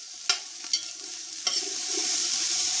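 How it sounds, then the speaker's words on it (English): Vegetables including garden-grown carrot sauté in a pan for okra tomato stew, a steady hiss of frying with a few sharp stirring scrapes, building slightly louder toward the end, no voices. "we're going to let this saute for a couple minutes"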